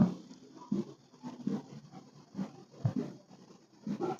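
Chalk or marker scratching on a board during a chemistry lesson, short irregular strokes and taps, fairly quiet and close.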